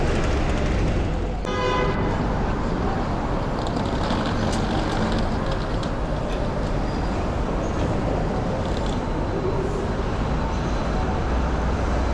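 A brown Bakerloo-route London bus pulls in at a stop outside Waterloo Station amid steady, loud street traffic, with a short horn toot early on and a continuous roadway rumble throughout.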